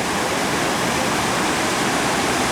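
A Norwegian mountain waterfall plunges into a churning pool below, a loud, steady, dense roar of rushing water with no break or voice over it.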